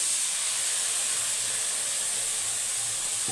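Water poured into spice paste frying for a pangas fish oil curry sets off a loud, steady hiss of steam that holds at an even level throughout, close by and with no talking.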